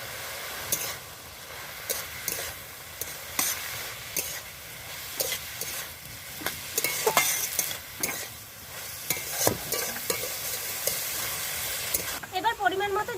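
Fenugreek greens fry in a pan as turmeric and salt are stirred in, a continuous close sizzle broken by repeated scraping stirs; a voice speaks briefly near the end.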